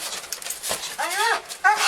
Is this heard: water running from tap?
no